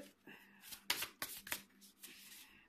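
Tarot cards are shuffled by hand in a few quick riffling bursts, crisp and close, with short pauses between them and a little faint voice underneath.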